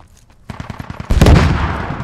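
Rapid bursts of gunfire crackle in quick succession, building into a louder, denser volley of shots.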